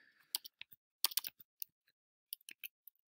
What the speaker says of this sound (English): just type in Tweetdeck and it should come right up